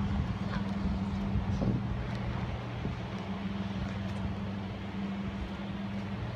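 A bus pulls in to stop, its low engine rumble droning steadily and faintly in the distance, with no one speaking over it.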